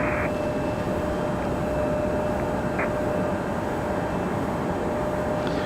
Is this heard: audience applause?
no